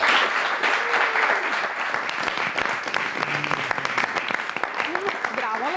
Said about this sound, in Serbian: Veliki aplauz, Aleksandra Dabić